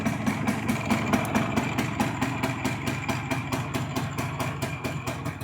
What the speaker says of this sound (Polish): Silnik pracuje tak, pracował, nic się nie dzieje.